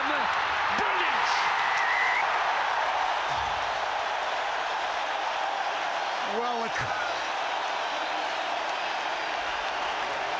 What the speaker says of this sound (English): the crowd say it all